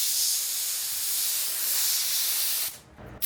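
Compressed air blasts steadily from a nozzle in a continuous loud hiss, cutting out near the end with a few short sputtering bursts, while parts for a Harley-Davidson Sportster hand control delete are being cleaned.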